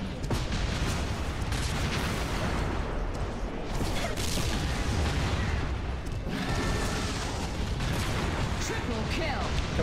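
Rapid, dense gunfire from the online multiplayer shooter Hazard Ops in a versus match, loud and continuous with bursts and booms layered over each other for the whole stretch.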